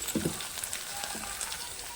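Crushed garlic and turmeric frying in a pan for tamarind rasam, a steady soft crackling sizzle with a few brief clinks near the start.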